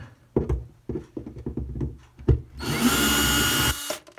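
A handheld power drill whirs for about a second while it backs a screw out of a wooden drawer, after several knocks and taps from handling the drawer.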